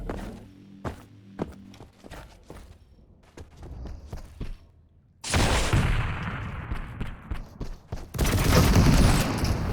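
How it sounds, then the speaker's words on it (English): Shotgun blasts and sharp gunfire in a Quake duel match, starting with scattered clicks and footsteps, then a loud burst of heavy firing and explosive noise that swells again near the end. "The shotgun blast to the face could have dealt enough damage to almost kill him there"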